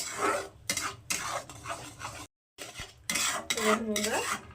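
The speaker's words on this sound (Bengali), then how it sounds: "এটাকে এখন আমি আর একটু কষাবো পাঁচ থেকে সাত মিনিট এটাকে কষিয়ে নেবো এইভাবে" A utensil scrapes and stirs tomato frying in a pan, giving clattering metal strokes over a soft sizzle. A short silent gap breaks the sound midway, and there is no speech.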